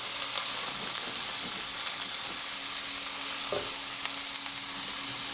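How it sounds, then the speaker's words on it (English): Beef strip steak sizzles loudly and steadily in a hot pan, a continuous bright hiss with scattered splattering pops throughout. "this is going to be all over the place, just splattering"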